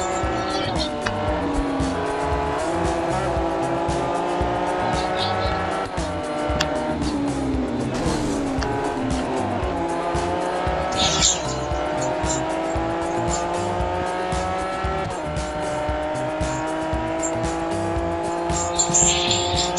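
A Lamborghini Miura races in a video game championship, its engine note rising and falling steadily through gear changes for a long stretch, loud and close, with occasional tire squeal.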